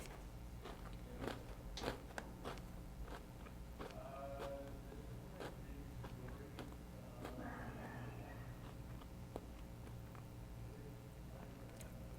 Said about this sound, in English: You just watched a stranger chew a pretzel for like 10 seconds.